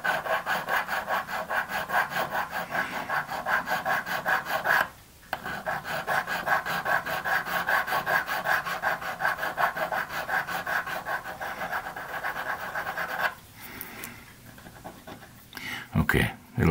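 A hand file rasping wood on a scratch-built model ship, with steady rapid back-and-forth strokes close by and brief pauses between bursts.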